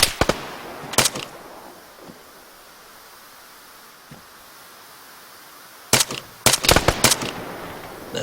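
Gunfire rings out in the Arma 3 game: sharp single and rapid shots in clusters at the start and again near the end, with a quiet stretch and a couple of faint distant pops between.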